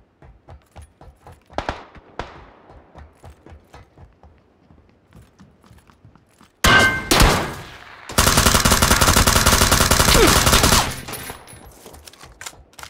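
Video game gunfire in a military shooter: a loud burst of rapid shots erupts midway, followed by a sustained machine-gun stream lasting several seconds, after quieter clicking and rustling movement sounds.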